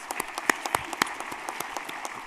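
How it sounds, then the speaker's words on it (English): Scattered applause from an audience at a police department annual awards ceremony, fairly quiet and thin, with individual claps popping out sharply against a soft background patter. "Let's give them a round of applause."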